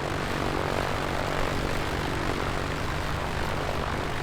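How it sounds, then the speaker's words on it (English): An A2A Comanche propeller aircraft in Microsoft Flight Simulator 2024 runs at high throttle, heard from outside the plane as a loud, steady, unbroken engine and propeller roar for the whole clip. "I'm going to throttle up outside the aircraft so we can hear the noise."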